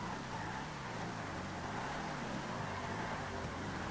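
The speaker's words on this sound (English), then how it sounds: "Muscle cars is coming in." Muscle car engines rumble steadily at a GTA 5 Online car meet, a continuous low growl with wavering pitch that stays loud and constant throughout, with no talk over it.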